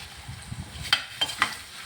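Thoran being stirred gently in a pan, with a low scraping rumble and three brief spoon-against-pan clinks near the end, close and fairly quiet.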